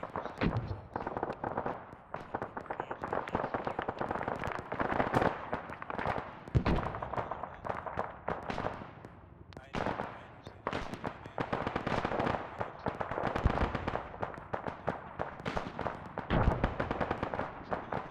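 Artillery shells land and explode in a military video game, a dense run of sharp booming blasts and crackling impacts that repeat irregularly for the whole stretch, loud and close.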